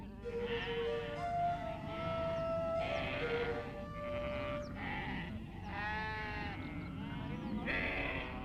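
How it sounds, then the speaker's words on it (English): Sheep and goats bleating as they graze on Crete, overlapping calls one after another, some long and wavering, close and clear above a steady outdoor background. "Sheep and goats graze here as they have for thousands of years."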